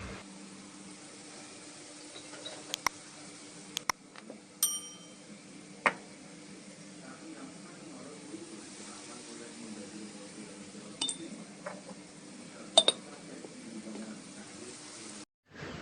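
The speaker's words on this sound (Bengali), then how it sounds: "এবার দিয়ে দিচ্ছি বরবটি ও কেটে রাখা বেগুন দিয়ে আবারও এক থেকে দু মিনিট ভালো করে নেড়ে চেড়ে সবজি ভেজে নিচ্ছি" Yardlong beans and chopped eggplant are stirred in a pan, with a soft frying hiss running underneath and scattered sharp clinks and scrapes of a metal spatula against the pan, heard close.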